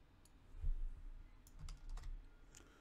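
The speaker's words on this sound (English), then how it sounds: "I'm gonna type the password that we have just found" Quiet computer keystrokes as a password is typed, a few soft taps and clicks in short bursts over low room hum.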